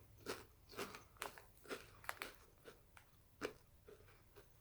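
Quest nacho cheese protein chips being bitten and chewed up close, a series of about nine crisp crunches in an irregular rhythm, moderately loud with no talking.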